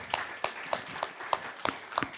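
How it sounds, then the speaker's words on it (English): Sparse, slow clapping at an evening community meetup: seven or so distinct, evenly spaced claps, close and fairly crisp, from what sounds like only a single person or a few people, with no talking. "Let's give our speakers and you a big round of applause for coming out tonight."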